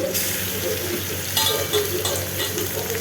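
Chicken pieces rubbed with salt and garlic fry lightly in a pan with a continuous close sizzle, broken by a few brief clinks and stirring scrapes.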